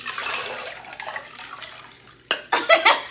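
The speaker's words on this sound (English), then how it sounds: "I'm gonna pour this into this bowl away from my laptop." Liquid, a homemade blueberry basil limeade, is poured into a bowl, with a soft splashing stream and a few louder gushes near the end, close by.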